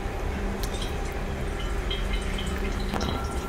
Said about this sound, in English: Now we pass to the oil filter. I do it by hand. I'm gonna drain most of it just like this.